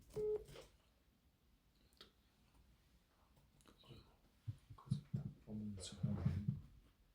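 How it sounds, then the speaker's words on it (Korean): A phone rings with an incoming call during a live Korean Bible study broadcast, its short tonal beeps sounding close and mixed in with speech. "전화 왔어요."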